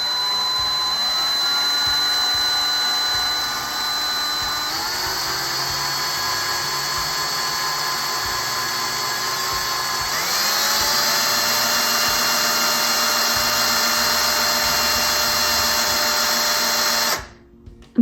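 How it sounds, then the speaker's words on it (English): A power drill twisting copper wire whirs steadily for about seventeen seconds, its pitch rising in steps as it speeds up, then cuts off abruptly. "I'm gonna pull it back and I'm gonna start drilling."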